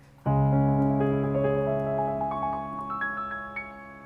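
A piano chord rings out, then notes climb quickly in a rising arpeggio run over the sustained bass, clear and solo, in the style of Beethoven's Moonlight Sonata.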